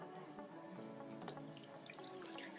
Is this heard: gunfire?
no